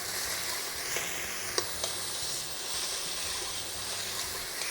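Chopped onion sizzles softly in a pan for beef lasagna, a faint steady hiss with a few light clicks and taps from stirring, no voices.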